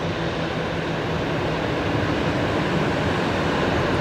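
An arriving aircraft at Brisbane Airport at night produces a steady, loud broadband engine roar with a faint low hum, heard alone without voices.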